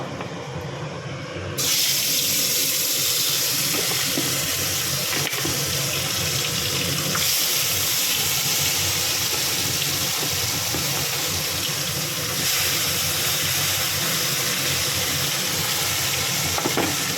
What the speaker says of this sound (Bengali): তেল ভালো করে গরম হয়ে গেছে এবার মাছগুলো দিয়ে দেবো